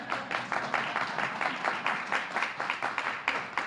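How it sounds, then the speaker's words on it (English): Audience members at a plenary session on emancipation history clap together, the applause fairly quiet but with a distinct, regular pulse of claps falling roughly in rhythm. "you may applaud"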